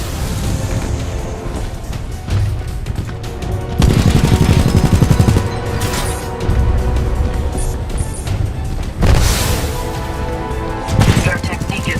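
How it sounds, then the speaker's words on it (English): Loud rapid gunfire from the Titanfall 2 video game, dense bursts and booms layered over music and a voice, with several sharp louder volleys through the stretch. "All units fire at will."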